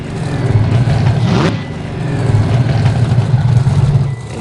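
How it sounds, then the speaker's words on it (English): The monster truck Grim's engine revs loudly and close at a monster truck destruction tournament arena. The throaty roar swells and dips in a steady, rumbling drone. "And the final truck up is going to be Grim"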